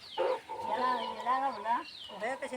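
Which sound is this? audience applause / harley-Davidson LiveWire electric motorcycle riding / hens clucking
hens clucking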